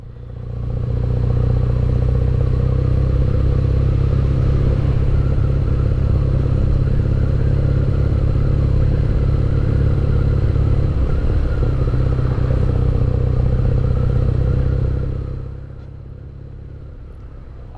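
A 2019 BMW R nineT Pure motorcycle drones loudly and steadily while riding, with wind rush and a rough engine rumble that fades lower near the end.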